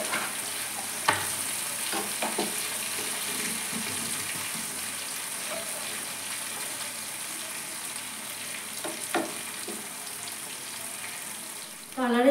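A spoon stirs onion paste around a hot frying pan while making restaurant-style chicken chaap, giving a steady soft sizzle with a few scraping clicks, close by throughout.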